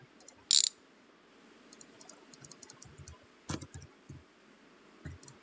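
Wrench ratcheting on a car fender bolt, heard as bursts of quick metallic clicks and ticks between pauses, close and fairly quiet, with one sharp clack near the start.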